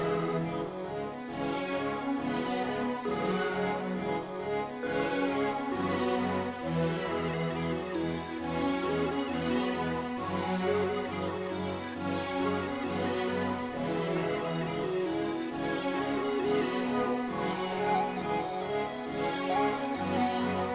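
New wave trap melody built in FL Studio, a bright synth lead with a pitch slide repeating in a steady looping pattern over a pulsing beat, loud and continuous with no talking.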